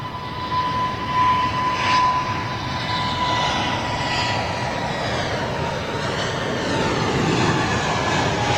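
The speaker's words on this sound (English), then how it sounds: "Turkish Dreamliner on approach." Turkish Airlines Boeing 787 Dreamliner on approach into a headwind, a loud steady jet roar that swells and holds across the whole stretch, with no voices.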